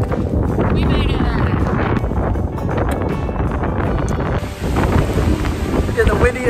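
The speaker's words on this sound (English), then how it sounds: "Yeah, this is some serious wind." Strong wind on the Grinnell Glacier trail in the alpine mountains, roaring and buffeting loudly against the microphone without a break, with gusts swelling toward the end.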